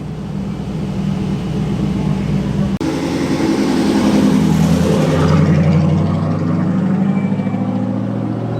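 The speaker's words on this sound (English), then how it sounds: "very rare car, based on the Land Crab, but very, very different under the skin with its 6-cylinder engine" A rare six-cylinder classic car based on the Land Crab is heard at an outdoor classic car show. Its engine swells abruptly, then surges and roars as it drives nearby before easing off.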